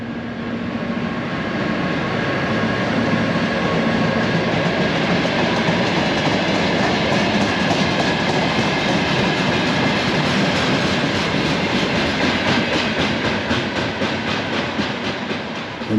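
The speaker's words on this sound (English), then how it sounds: "And there's our train there." A passenger train runs past on the line at a Lithuanian station, a steady loud rumble with rhythmic clicking of wheels over rail joints that holds for the whole stretch, with no talk over it.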